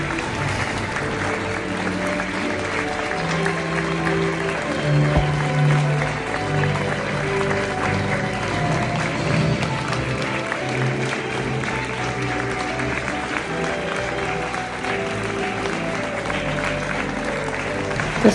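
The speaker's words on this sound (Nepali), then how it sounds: "बुवा आमाले ताली बजाएर सपोर्ट गर्नुभएको छ" Parents at a school graduation ceremony in Tokyo applaud in a sustained, steady patter of many hands clapping, with some faint crowd murmur and scattered voices mixed in.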